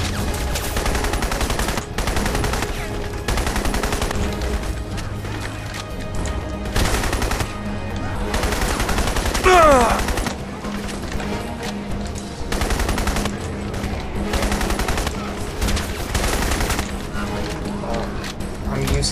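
Repeated bursts of automatic gunfire from the shooter game Crysis, loud rapid volleys separated by short pauses, with a voice speaking between some of the bursts.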